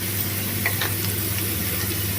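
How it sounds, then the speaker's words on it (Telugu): Peanuts and spoonfuls of tempering seeds fry in hot oil with a constant, close crackling sizzle and faint pops on top, and no voices over it. "పల్లీలు కొద్దిగా ఫ్రై అయిన తర్వాత దీంట్లోనే 2 స్పూన్లు తాలింపు గింజలు వేసుకుంటున్నాను."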